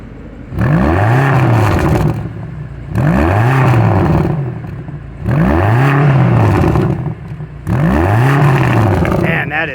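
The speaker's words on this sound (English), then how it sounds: "do a little rev time" Exhaust of a 2024 BMW XM with a 4.4-litre twin-turbo V8, revved four times in a steady rhythm. Each loud blip rises sharply and falls away, with a throaty rasp and a lower idle between the revs, heard up close from the rear.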